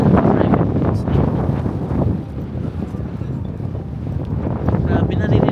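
Steady, heavy wind buffeting the microphone at a Melbourne beach, a dense low rumble that persists throughout with little let-up.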